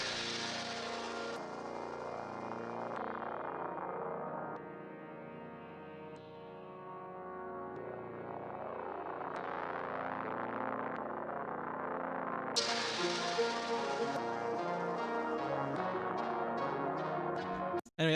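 A trap beat melody made in Cakewalk plays with effects applied, a sustained, heavily processed synth line with echoing, distorted tones and shifting notes running continuously for about eighteen seconds, alone with no talk.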